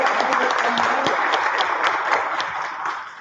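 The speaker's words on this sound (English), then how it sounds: "Give him a round of applause" Applause from the audience at a 2023 7th Ward aldermanic candidate forum greets a candidate's introduction, a short burst of dense clapping that starts loud and fades toward the end.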